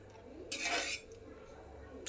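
Hot water splashes into a pot of cooking pulao rice in a short, bright pour lasting about half a second, set against quiet kitchen background.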